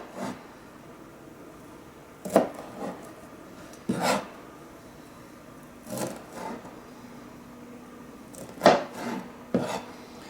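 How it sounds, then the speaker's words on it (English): A knife chops vegetable florets into halves or quarters on a cutting board, giving a handful of sharp, separate cuts spaced a second or two apart against a quiet background. "I'm just going to chop those florets in half, or maybe quarters, depending on how big they are."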